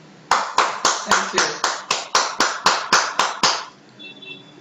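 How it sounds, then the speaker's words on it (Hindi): Loud, steady rhythmic clapping from an audience welcomes a host on stage at a cooking contest results event, about a dozen crisp, evenly spaced claps, then a brief spoken thanks as the clapping stops. "आप सबकी जोरदार तालियों से स्वागत करना चाहेंगे रजनी जी का।"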